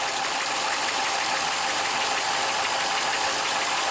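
A boat engine with newly fitted manifolds and risers runs steadily close by, a loud, unbroken broadband roar with no pauses or changes in pitch.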